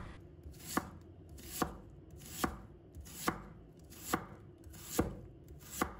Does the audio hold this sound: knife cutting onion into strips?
yes